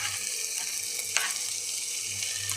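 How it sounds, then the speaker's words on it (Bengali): Onion, green chilli and garlic hit hot oil in a pan, giving a soft, continuous close sizzle with one small clink of stirring midway, fairly quiet and with no one speaking. "এবার দিয়ে দেবো পেঁয়াজ, কাঁচা লঙ্কা, রসুন সব কিছু দিয়ে দেবো।"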